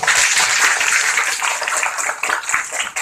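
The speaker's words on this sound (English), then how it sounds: "let's give her a round of applause" Crowd applause for a school principal at a school debate event, steady bright clapping from many hands filling the room for about three seconds with no voices over it.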